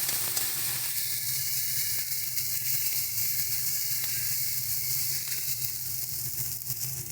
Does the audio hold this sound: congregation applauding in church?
no